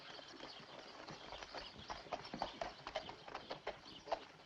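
Horse hooves clip-clopping on the ground in a steady walking rhythm, faint and somewhat distant against low background noise.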